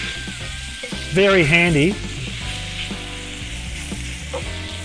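General Tso's chicken stir-fries on an induction hob with a strong, steady sizzle, while someone speaks briefly over it.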